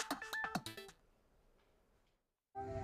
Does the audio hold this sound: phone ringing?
yes